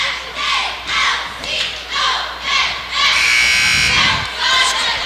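A high school cheerleading squad at a 2005 girls' playoff basketball game chants a cheer in loud rhythmic group shouts, repeated bursts from a crowd of voices in a reverberant gym, with a buzzer-like tone partway through.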